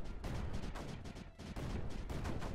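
Cannons firing in the strategy game Creeper World 4, a steady stream of repeated, dense booming impacts that overlap almost continuously, moderately loud with only brief dips.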